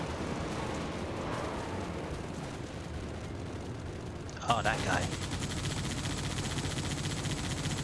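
Rapid gunfire bursts from a Halo sword tournament match rattle steadily under continuous game noise, with a sharper burst of shots and an explosion-like crack midway as players talk excitedly.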